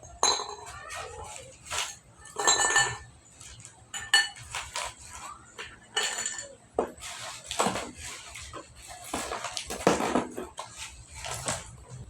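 Ice cubes clink and clatter as they are arranged in a plastic basin and a glass basin for a simple water cycle experiment, giving repeated scattered knocks and rattles at close range with no talk.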